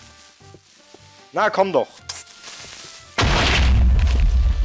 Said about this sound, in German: Alter, das tut auch immer Rums, wenn die explodieren.